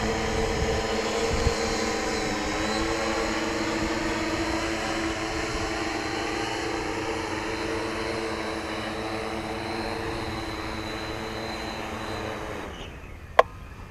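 An RC model aircraft, an F5U/F91U, whines with a steady electric motor hum that eases and lowers slightly in pitch as the throttle comes down, ending with a faint click.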